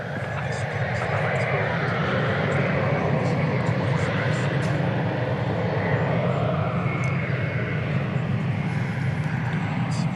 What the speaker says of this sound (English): It's an Embraer E190, as I recall.